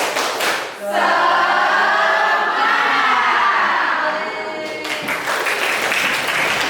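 A group of people standing together do a rhythmic spirit clap during a teacher-training session, loud, close and crowd-like, with voices mixed in.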